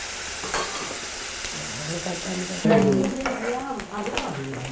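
Salted jaadi fish fry in hot oil with a bright, steady sizzle that swells louder partway through, while a voice talks and hums over the cooking.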